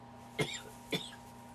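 Two short, close coughs about half a second apart, each a harsh throat-clearing burst after inhaling something, with a faint steady hum in the background.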